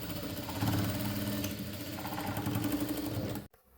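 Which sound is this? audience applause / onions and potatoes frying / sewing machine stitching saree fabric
sewing machine stitching saree fabric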